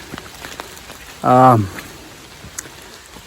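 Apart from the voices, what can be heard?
rain falling on Appalachian Trail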